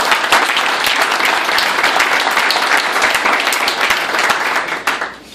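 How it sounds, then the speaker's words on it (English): Dense applause from the crowd at a live magic show in Anaheim, loud and continuous for several seconds before it tapers off sharply near the end. "Ladies and gentlemen, round of applause for Staff Sergeant Ross."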